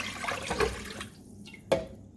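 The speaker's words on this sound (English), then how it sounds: "start pouring our vegetable broth in" Vegetable broth is poured into a soup pot for creamy potato soup, giving a splashing liquid rush that fades after about a second, followed by a brief quieter trickle and one sharp clunk.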